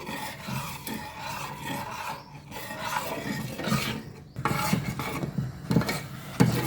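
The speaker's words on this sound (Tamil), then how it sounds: "கோதுமை வெந்து வர்ற வரைக்கும் நம்ம கிளறிக்கிட்டே இருக்கணும்" A wheat flour and milk mixture thickens in a pan while a utensil stirs it continuously. Steady rasping and scraping strokes sound close by, with occasional soft knocks against the pan.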